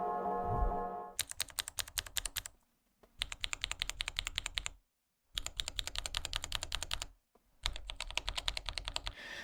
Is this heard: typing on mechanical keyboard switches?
yes